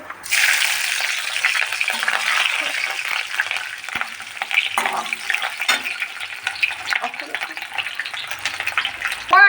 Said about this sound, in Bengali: কড়াতে তেল দিলাম দিয়ে একে একে শুকনো ঝাল কাঁচা ঝাল